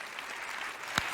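Dense crowd applause at a gathering honoring Salahuddin Savari, a young Quran memorizer with autism, steady and fairly loud throughout, with one sharper clap standing out near the end.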